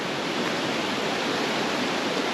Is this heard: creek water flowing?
yes